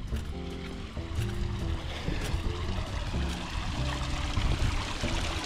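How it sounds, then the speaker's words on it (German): Water splashes steadily in a town fountain decorated with dragons, a continuous close splashing and pouring with faint background activity. "So, da ist der Brunnen"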